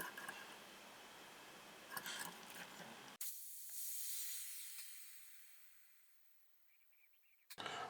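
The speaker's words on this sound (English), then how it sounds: "carefully screw the degassing tool in until the rifle depressurises" Airmaks Katran air rifle venting pressure through a screwed-in degassing tool: a sharp, close gas hiss starts abruptly, holds loud, then slowly fades over several seconds before a final short burst of noise.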